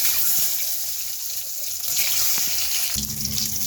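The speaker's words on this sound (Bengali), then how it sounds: "আর এদিকে আমার যা ভাতের মাড় গালছে" Starchy water pouring off a pot of cooked rice, a steady splashing stream like a running tap, moderately loud and continuous, growing heavier near the end, with no talking.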